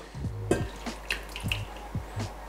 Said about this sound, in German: gebe das Wasser dazu.